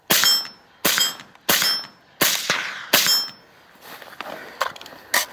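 Rifle shots fired at a target during arctic soldier training crack out in five loud, evenly spaced reports, each with a short metallic ring. Fainter clanks and knocks follow.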